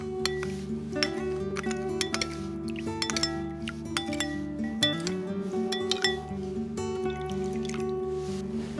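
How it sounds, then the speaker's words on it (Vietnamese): A spoon clinks against a bowl while stirring a seasoning mixture of ketchup, pepper, sugar and water, with quick repeated bright chinks and faint liquid swishes, close and fairly quiet over a low background hum. "Khuấy đều lên cho tan gia vị."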